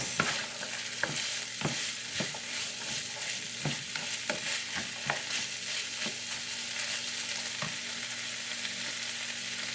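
Shepherd's pie filling being mixed in a hot pan, with a steady background sizzle and repeated scraping stirs of a utensil across the pan bottom, close and moderately loud, with no talking.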